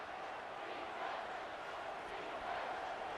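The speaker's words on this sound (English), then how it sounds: "Crowd chanting here." A stadium crowd in the College Football 25 video game chants and roars on third down, a steady wash of massed voices at moderate distance.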